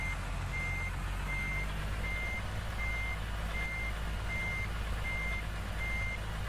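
Truck backing up in American Truck Simulator, a cab-over rig reversing into a parking spot, its steady evenly spaced reverse beeps repeating over a constant low engine drone, with no talk.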